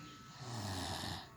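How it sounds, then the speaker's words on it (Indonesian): A baby snores in one drawn-out, rasping breath, loud and close, with no other sounds around it. "ternyata bayi bisa juga ngorok"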